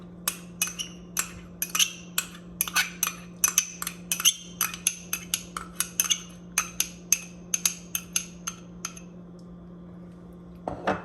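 A utensil clinks and taps rapidly against a bowl while rice vinegar, honey and sauce are stirred together for crispy chilli beef, a quick irregular run of sharp close clicks over a faint steady hum.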